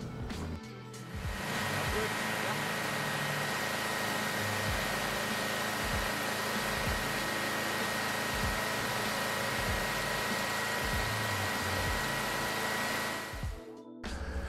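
A Scag V-Ride 2 lawn mower engine running at a steady idle, a continuous mechanical drone with a faint whine, starting and stopping abruptly.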